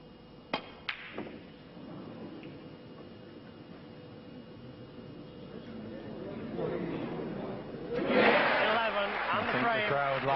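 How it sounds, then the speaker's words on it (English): A snooker crowd at the 1995 Grand Prix swells into a loud roar and applause as John Higgins takes the lead, rising from a quiet hall with a few sharp ball clicks and a murmur into a big sustained cheer. "A great roar as John Higgins finally takes the lead, 3 frames to 2"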